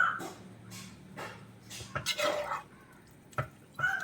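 Chilli gobi with spring onion stirred in a pan: intermittent scrapes and clinks of a utensil against the metal pan in short irregular bursts, fairly quiet.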